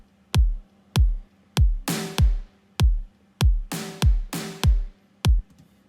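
A layered EDM kick and snare pattern plays alone and fairly loud. Deep, punchy kicks thump in a steady beat while bright, noisy snare hits land between them, with the snare layers panned across the left, centre and right.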